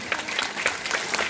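Applause at a government school learning festival in a village: a crowd clapping loudly, a dense, steady patter of many hands.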